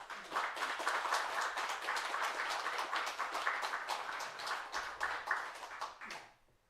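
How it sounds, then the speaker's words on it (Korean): A church congregation applauding in welcome during a Sunday service, a dense, steady round of clapping that holds for several seconds before fading out abruptly. "여러분 박수로 환영해 주시면 고맙겠습니다."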